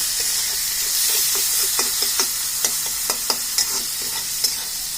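Capsicum, grated carrot, green chilli and spring onion stir-fry for chow mein with a bright, constant hiss and sizzle, punctuated by a quick series of spatula taps and scrapes against the pan.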